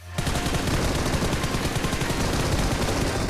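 Rapid automatic gunfire in the shooter game PUBG Mobile, a dense, loud, continuous burst of shots that fills the whole stretch without pause.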